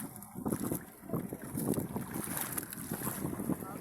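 A small fishing boat's engine drones steadily over wind and lapping water, with gusts buffeting the microphone.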